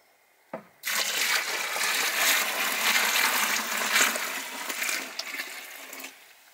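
Six litres of water gush into a Dutch oven for home beer brewing, a loud continuous rushing pour that starts after a brief knock, runs steadily for about five seconds, then tapers off, with no talking.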